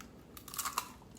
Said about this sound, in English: Did you hear that crunch?